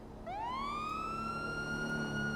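A police car siren in GTA V roleplay wails and rises steadily, loud and continuous, with no talk over it.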